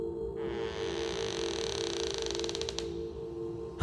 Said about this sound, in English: I heard a creak under my bed.